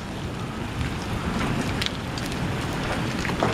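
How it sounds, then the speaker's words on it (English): Hail falls during a severe June storm, heard from an open garage as a dense, steady rattle and patter with wind noise and sharper ticks of hailstones striking nearby surfaces. "Now we're just getting hail"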